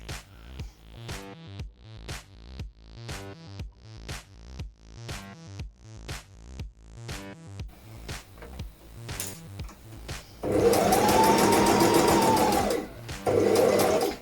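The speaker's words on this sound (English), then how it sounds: "when we get to the end, I'm just going to do a couple of back stitches as well" A sewing machine runs back stitches on a circle skirt in a steady chugging rhythm of short mechanical bursts, then shifts into a louder, faster continuous whir near the end, with no talking.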